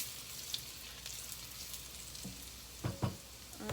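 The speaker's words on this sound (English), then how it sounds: "onions are getting caramelized good, and that's how you want it" Onions caramelizing in a pan for brown gravy give a soft, steady sizzle with faint crackles, a few louder pops and clatters near the end.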